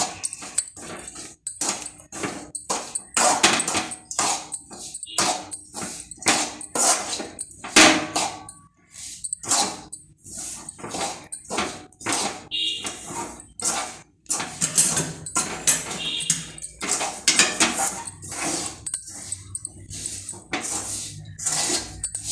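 A spoon scrapes and clinks in a pan while peanut burfi mixture is stirred over a low flame. The strokes are repeated and irregular, close and fairly soft, with brief pauses between bursts.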